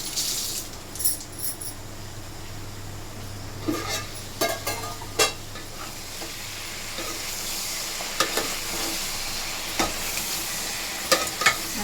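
Vegetable pieces and curry leaves fry in a pan for dal charu with a continuous sizzle, punctuated by sharp metallic scrapes and clinks of stirring. A low hum sits underneath at first, and no one speaks.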